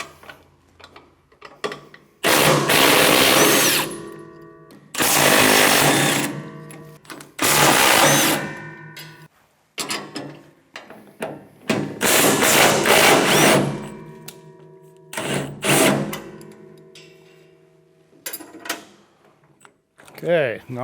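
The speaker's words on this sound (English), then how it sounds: "Here I'm going to remove all 4 of these bolts, but I'm just going to do 3 at first so the auger doesn't fall down." A power tool spins bolts off the auger of a snowblower in loud, close bursts of a few seconds each, six or so, separated by quiet gaps with faint clinks and a voice.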